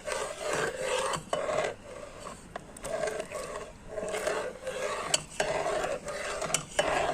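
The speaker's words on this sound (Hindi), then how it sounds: "जब तक उबल ना जाए इसको आपने चम्मच हिलाते रहना है" A spoon scraping and stirring steadily around a metal pot of yogurt and water heating toward a boil, a continuous raspy rubbing with occasional clinks against the sides.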